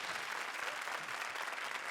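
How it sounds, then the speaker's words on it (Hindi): Studio audience at a comedy show applauds for Shruti, dense steady clapping from a crowd heard continuously at a moderate distance. "आ जाइए जरा ताली बजाइए श्रुति के लिए।"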